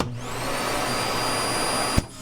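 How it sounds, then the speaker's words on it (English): A whole-house vacuum system in a 2020 Grand Design Solitude 375 fifth wheel RV drones steadily and loudly, then cuts off with a sharp click near the end. "we have a whole house vacuum system down there, and all you have to do is just pick that thing up"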